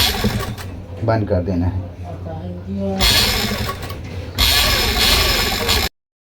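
A sewing machine stitches the neckline of an angrakha garment in a boutique, running in two loud continuous bursts after a voice speaks briefly, then stopping abruptly.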